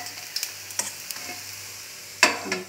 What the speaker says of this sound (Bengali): এই যে চিংড়ি মাছ দিয়ে বাঁধাকপি পেঁয়াজ দিয়ে এই যে আমার যা ভাজছে।